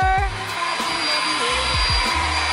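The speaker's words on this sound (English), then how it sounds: "We're gonna be making videos of our vacuum now." A Hoover vacuum cleaner runs continuously indoors on a low floor, its steady whine holding throughout with a few deeper thumps and bumps underneath.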